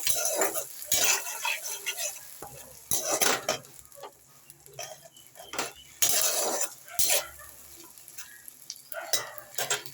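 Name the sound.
stirring onion and chili paste in a pan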